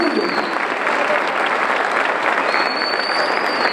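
Steady, dense applause from a large audience at an honorary doctorate ceremony, sustained evenly throughout with faint cheering underneath.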